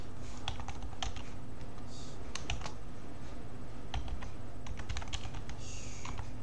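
Steady typing on a computer keyboard, with quick close-up key clicks in uneven bursts and no talking.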